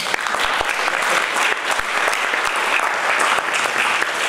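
Audience applause at a lecture on ethical values in education, a dense burst of many hands clapping steadily throughout, loud and close with no speech.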